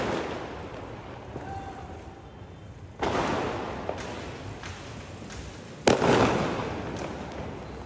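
Diwali firecrackers going off across Bangalore, a steady crackling wash of distant bursts punctuated by two sharp, loud bangs nearby.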